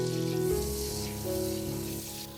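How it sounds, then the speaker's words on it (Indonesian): Chopped onion sautés in melted butter or margarine, a soft, steady sizzling hiss beneath continuous background music. "Tumis sampai harum bawang bombay."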